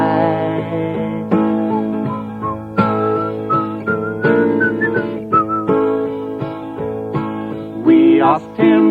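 An old man whistles a cheerful melodic tune while walking past, the clear notes rising and falling steadily and close by for the whole stretch, with no talking.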